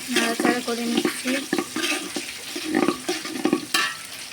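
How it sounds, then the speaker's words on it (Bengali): Chopped onions fry and get stirred in a pan for spicy khichuri, with irregular scraping strokes and soft sizzle close by, mixed with brief voiced sounds. "এবার আমি দিয়ে দিচ্ছি পেঁয়াজ, পেঁয়াজটাকে ভালো করে নাড়াচাড়া করে নিচ্ছি।"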